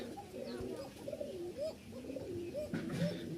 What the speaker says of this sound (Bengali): রাজশাহীর উড়াবাজির এক জোড়া কবুতর, খুব সুন্দর একটা জোড়া, কফি কালার বা বিস্কিট কালার